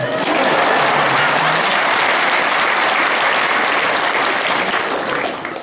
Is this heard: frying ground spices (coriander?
no